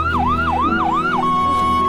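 A wailing ambulance siren sweeps up and down in a steady repeating cycle, loud and close, then settles into a held tone as it goes past, with a constant low rumble of traffic underneath and no talking.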